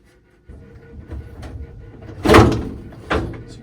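The top lid of an LG washing machine is handled and lifted, a series of plastic knocks and a louder clunk midway, followed by another shorter thump, close and fairly loud.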